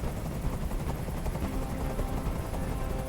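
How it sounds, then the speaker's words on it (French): A helicopter in the video game Detroit: Become Human keeps up a steady, loud rotor roar and rumble throughout, with a dense low throb that stays constant and close. "Je peux plus supporter ce bruit. Fais dégager cet hélicoptère"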